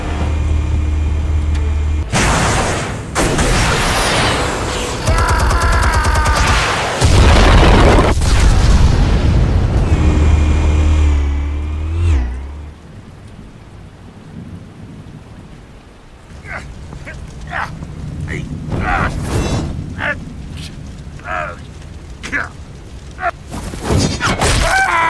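Explosives going off in a Batman Telltale game, with several heavy booming blasts and rumbling impacts early on, then quieter sharp bursts and pops with some game voices mixed in.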